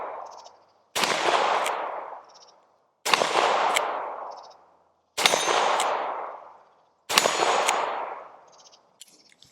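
A Taurus Deputy .357 Magnum revolver with a 5.5-inch barrel fires at a steel target. Four loud, evenly spaced shots each strike the plate with a bright metallic clang whose ring fades over about a second, with no talk.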